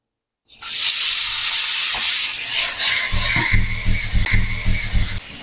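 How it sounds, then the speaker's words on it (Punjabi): Chopped ginger and garlic, about 100 grams each, hit hot oil with a sudden loud sizzle after brief silence, then a sustained hiss crackles on with faint stirring knocks beneath. "ਆਪਣਾ ਤੇਲ ਗਰਮ ਹੋ ਗਿਆ ਜੀ ਤੇ ਆਪਾਂ ਇਹਦੇ ਵਿੱਚ ਅਦਰਕ ਤੇ ਲਸਣ ਜਿਹੜਾ ਚੌਪ ਕੀਤਾ ਹੋਇਆ ਵਾ 100 100 ਗ੍ਰਾਮ ਉਹ ਪਾ ਦੇਣਾ"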